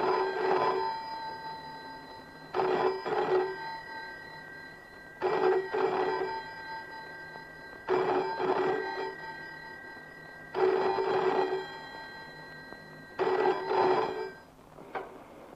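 A telephone rings in repeated bursts, about six double-rings spaced a couple of seconds apart, loud and close with no talk over it, in a 1974 Bollywood film scene.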